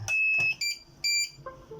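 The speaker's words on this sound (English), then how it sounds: "This beeping like once every 2 seconds means the paper error." Shrill electronic beeps sound from a nearby receipt printer with a paper error: a few high tones in quick succession, then a short falling run of lower tones.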